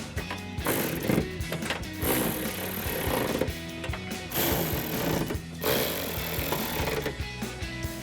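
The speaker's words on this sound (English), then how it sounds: "I'll throw my ratchet on the other side and tighten all of those down" A ratchet tightening bolts on a rear spoiler being fitted to a 2024-2026 Mustang, with rapid clicking in quick bursts mixed with faint clanks and handling noise, fairly close and quiet, no speech.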